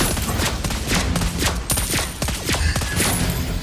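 Rapid video game gunfire rattles in a continuous stream of sharp, closely spaced shots, loud and steady for the whole few seconds, with no talking.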